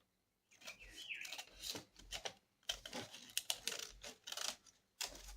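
Scissors cutting a brown paper bag, a series of crisp snipping and crinkling paper sounds in uneven bursts, close and fairly faint, with short pauses between cuts.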